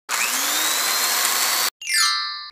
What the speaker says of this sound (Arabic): وأشغل الخلاط وأخلطهم كمان مع بعض